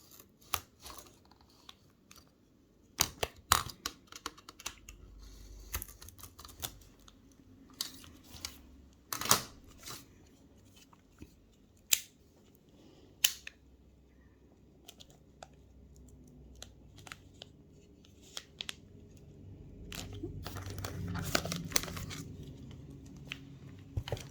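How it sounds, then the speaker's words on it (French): Scissors snip through a single layer of a plastic card sleeve for jumbo-size cards, a series of sharp, close clicks and cuts at an uneven pace over a quiet room background. "couper que dans une seule épaisseur du plastique"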